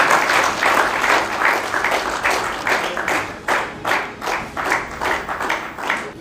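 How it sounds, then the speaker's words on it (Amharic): An audience at a national ICT competition awards ceremony applauds the winners, a sustained burst of many hands clapping in pulsing waves, loud and continuous throughout. "እባካችሁ በደንብ አጨብጭቡና"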